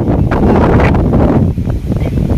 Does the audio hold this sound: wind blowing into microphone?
yes